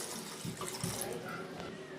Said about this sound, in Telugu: గుడ్లన్నీ ఈ విధంగా తీసుకొని వీటిలోకి వాటర్ వేసుకోవాలి